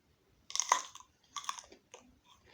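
Crunchy chocolate-coated jujube fruit bitten and chewed up close, with three separate bursts of crisp crunching and quiet pauses between them, and no talking.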